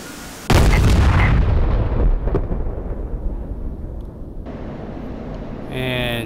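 Bomb blasts in the DCS F-16C Viper flight sim: a sudden heavy low boom erupts and rumbles for several seconds, a second thud follows, then the roar fades into engine-like drone.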